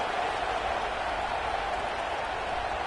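A stadium crowd at a college football game between Colorado and Oregon keeps up a steady, dense roar in the moments after a touchdown drive, loud and continuous with no breaks.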